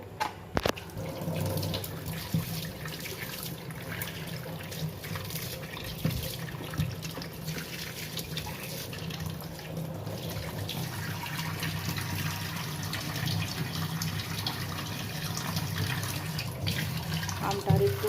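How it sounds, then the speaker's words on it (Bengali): Tap water runs steadily as red soil is washed off a bottle gourd, a continuous splashing stream with occasional clatters, and someone speaks over it. "লাউটাও ধুয়ে নিই লাউটার গায়ে যে এরকম মাটি মাটি লেগে রয়েছে"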